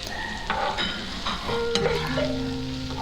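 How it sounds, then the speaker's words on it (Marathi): Sliced onion and potato frying and being stirred in a pan, a steady close sizzle with scraping stirs and clinks throughout, no talk. "बटाटा आणि कांद्या शिजायला थोडा वेळ लागतो आहे पूर्णपणे तळून व्हायला वेळ लागतो आहे"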